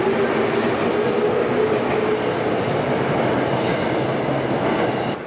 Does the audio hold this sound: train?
yes